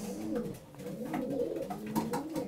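Racing pigeons coo in their loft, several soft, rolling calls repeating close by in a steady rhythm.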